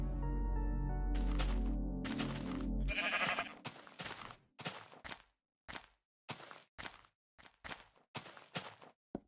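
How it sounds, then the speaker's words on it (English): Sheep bleating in a video game: a long drawn-out bleat, then a steady series of short, separate bleats spaced about a second apart, close and clear with nothing else behind them. "More sheep. More sheep. More sheep."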